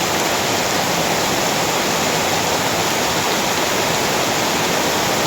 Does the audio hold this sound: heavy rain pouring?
yes